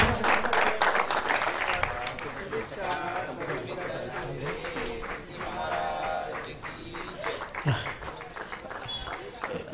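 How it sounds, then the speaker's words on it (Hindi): Crowd applause at a cricket tournament prize distribution ceremony, steady clapping from an outdoor audience running throughout, with an announcer's voice and chatter mixed in over it. "जोर से तालियां होनी चाहिए"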